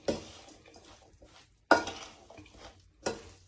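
Spices being mixed into a mixed vegetable pickle, with three distinct scraping stirs of a spoon against a vessel spaced across the moment, close and quiet with soft clinks between, no talking.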